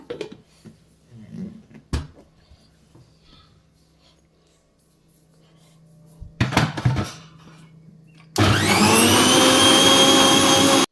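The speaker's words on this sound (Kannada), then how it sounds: "ಇನ್ನೊಮ್ಮೆ ಮತ್ತೆ ಓಡಿಸ್ಕೊಳ್ಳೋಣ ಅದು ಅಂದರೆ ಮಿಕ್ಸಿ ಮಾಡ್ಕೊಳ್ಳೋಣ" A mixer grinder blends ginger garlic paste, starting abruptly after a few kitchen clatters and bumps into a loud, steady, close whirring roar that runs to the end, with no talk.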